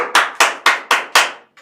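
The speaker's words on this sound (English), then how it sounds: "please give an applause to our bestie." Five sharp, evenly spaced hand claps from a class, close and loud, each ringing briefly before the next, then fading to silence.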